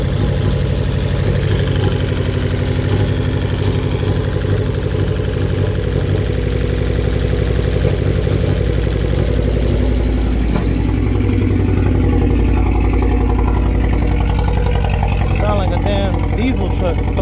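An Abarth car engine with excessive blow-by, likely from worn piston rings, runs at a steady, loud idle close by. Someone talks over it, and the tone shifts and eases partway through.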